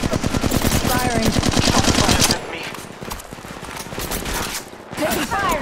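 Rapid automatic gunfire in the mobile battle royale game Apex Legends Mobile, loud dense bursts for the first two seconds, then scattered shots and game noise with brief voice callouts.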